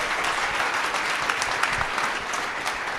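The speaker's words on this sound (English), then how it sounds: "A bigger round of applause." An audience at a cleantech startup pitch night gives a round of applause, a continuous dense wash of many hands clapping at close range with no speech over it.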